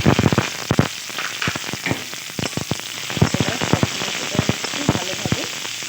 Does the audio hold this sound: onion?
yes